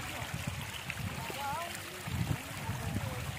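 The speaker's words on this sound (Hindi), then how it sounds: "ये पानी आ रहा है पहाड़ों से, बहुत ही खूबसूरत लग रहा है।" Mountain water flows steadily in a rocky area of Balochistan, giving a soft continuous rush and trickle at moderate distance, while someone talks over it and birds chirp faintly.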